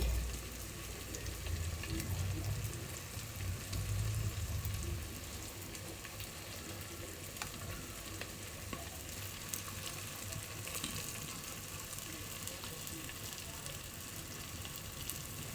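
Turmeric and chili powder frying in hot oil for a sardine curry, a steady soft sizzle running throughout, slightly fuller in the first few seconds, with no talking.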